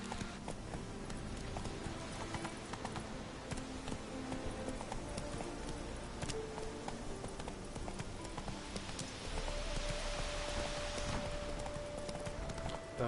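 Horse hooves in The Witcher 3 clip-clop at a steady trot throughout, rhythmic and moderately close, with a low ambient background and no talk over them.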